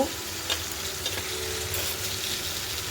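Chicken pieces seasoned with salt and turmeric sizzle steadily in a hot pan, with a few sharp scraping clicks from a spoon stirring through the fry, close up and without talk.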